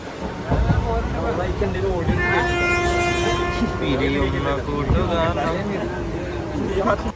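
A passenger train runs steadily through rain with a constant rumble, and a long horn sounds in the middle, while a person talks over it.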